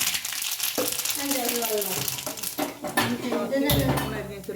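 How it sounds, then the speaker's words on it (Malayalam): Mustard seeds dropped into hot oil left from frying pappadam, crackling and sizzling close by amid clattering pan and utensil sounds, with a person talking over it. "കുറച്ച് കടുക് ഇടുന്നു"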